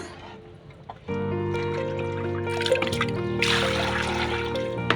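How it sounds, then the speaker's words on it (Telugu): Water from a tap pours steadily over fish pieces being washed for a fish curry, with a continuous close trickle and splashing that grows louder toward the end. "ఒకటికి రెండు సార్లు నీళ్లు పోసుకొని బాగా కడుక్కుందాము"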